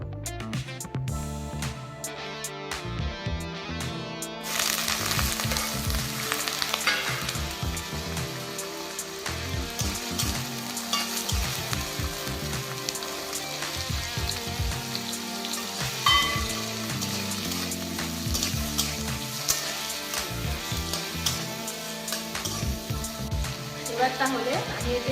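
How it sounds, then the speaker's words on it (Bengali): Potatoes and carrots frying in a little oil in a wok produce a continuous crackling sizzle that swells louder after a few seconds, with intermittent stirring clatter and a voice speaking at times over the cooking. "এই কড়াইয়ে আমি সামান্য তেল দিয়ে আলু ও গাজরগুলোকেও ভেজে নেব।"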